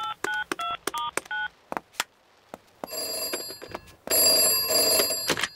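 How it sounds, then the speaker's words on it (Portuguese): Cartoon telephone dialing: a rapid run of bright keypad tones, then a loud electronic phone ringing in two long bursts, close and clear with no talk. "Vamos ligar para ela."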